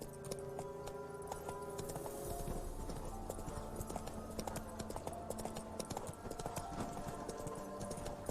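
Roach, a horse in The Witcher 3 game, gallops with rapid, continuous hoofbeats under a dense layer of game music and ambience, steady and moderately loud throughout.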